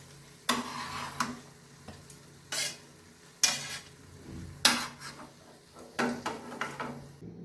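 Katla fish belly wrapped in cabbage leaves as paturi, frying in a pan: a low sizzle under a series of sharp, close scrapes and clanks of a utensil against the pan, several distinct bursts spaced apart.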